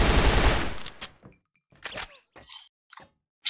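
Gunfire from a tactical video game shooter set in a bomb-defusal match: a dense burst of rapid shots in the first second, then scattered single reports and clicks with brief gaps, loud and close.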